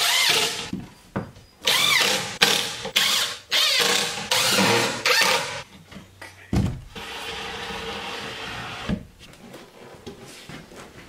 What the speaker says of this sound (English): Just cutting the ends of these down